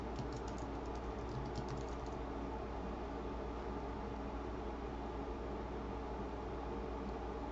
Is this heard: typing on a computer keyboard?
yes